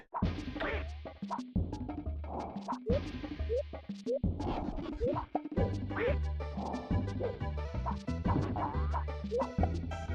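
Cartoonish duck quacks and thwacking hits from the SNES game Claymates sound repeatedly over bouncy game music, loud and busy throughout, with no talking.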